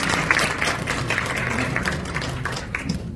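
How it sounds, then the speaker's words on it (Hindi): Audience applause at a lecture on osteoporosis, a steady wash of many hands clapping throughout, fairly close and unbroken, with no talk over it. "तो जोर से तालियां उनके लिए।"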